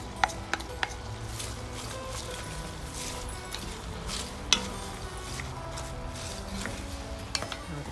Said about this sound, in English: Now that the wine has mostly cooked out, we're going to add the cabbage.